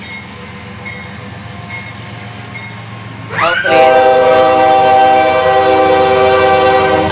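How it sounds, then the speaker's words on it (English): A train passes close behind a house, its rumble building before a loud, sustained horn blast bursts in about halfway through and holds to the end, drowning everything else; a brief spoken word comes in the middle. "Excuse me, that's the train coming through. It's really loud."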